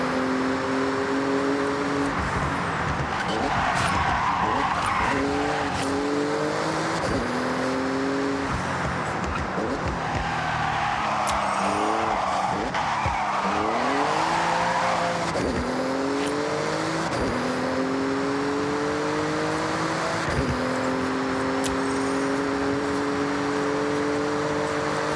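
A Porsche racing through a speed zone in Forza Horizon 6, its engine revving hard and climbing through repeated gear shifts, each upshift dropping the pitch before it rises again, loud and continuous with no talk.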